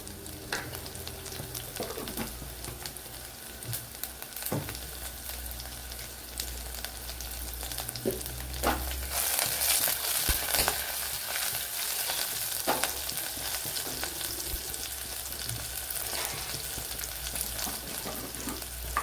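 Cumin seeds frying in hot oil for a brinjal curry, a steady close sizzle with scattered sharp crackles and pops from the pan, getting louder partway through, with no one talking.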